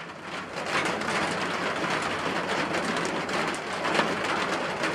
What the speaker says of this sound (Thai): ฝนมาครับฝนมา